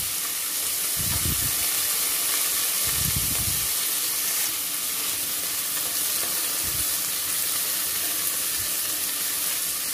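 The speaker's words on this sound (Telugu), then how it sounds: "ఈ ముక్కల్ని కూడా ఈ నూనెలో వేసి కాసేపు వేగనివ్వాలి" Soaked, pounded dried mutton pieces frying in oil, a continuous close sizzle broken by a few brief stirring bursts, with no voices.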